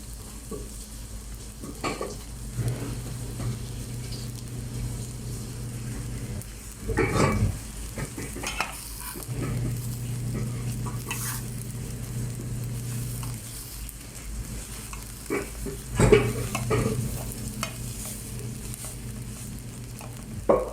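Garlic fried rice with garlic is stir-fried in a pan, giving a steady sizzle with repeated scraping and tossing strokes of a spatula and occasional louder clatters, close by and without speech.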